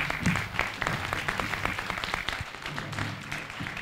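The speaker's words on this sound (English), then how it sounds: "I really hope you'll give yourselves a round of applause for that." An audience at a community candidate forum in Crook County gives a sustained round of applause, dense overlapping claps from a room full of people continuing throughout at moderate loudness.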